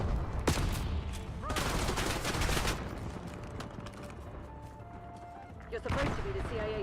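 Bursts of gunfire from a sniper engagement in a first-person shooter video game, sharp cracks and rattling volleys early on, then quieter mechanical noises and a later burst, with a voice talking over parts of it.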